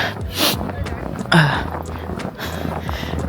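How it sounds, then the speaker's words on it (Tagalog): Heavy, breathy panting from a person out in the cold during a winter walk at Togakushi Shrine in Nagano, Japan, with a sharp gasp midway and ragged breaths running throughout, close and moderately loud. "Hinihingal ako."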